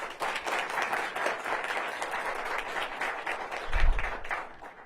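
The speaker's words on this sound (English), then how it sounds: "Let's give her a round of applause." An audience at a public event announcing a pop-up permit plan applauds, a steady crowd of clapping hands that swells slightly near the end before starting to fade.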